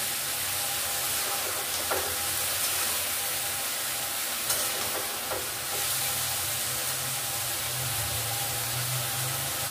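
Small chuno fish frying in a pan, with a continuous hissing sizzle and a low rumble running throughout, plus a few brief sharper crackles.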